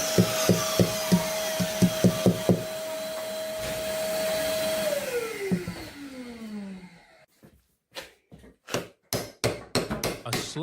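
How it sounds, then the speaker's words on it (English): A slack belt sander buffs the handle of a hand-forged 80CrV2 high-carbon steel knife: a steady motor whine that winds down partway through, followed by a run of sharp knocks and taps. "Slack belt provides the final buffing pass."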